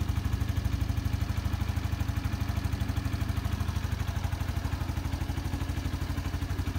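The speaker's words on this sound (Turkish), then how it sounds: "ben motorun çalışmasına hayran kalıyorum ya. Resmen pıt pıt pıt pıt pıt sayıyor yani." A Suzuki Address 110 scooter idles close by, its engine giving an even, rapid putter of regular pulses that holds steady throughout with no talk.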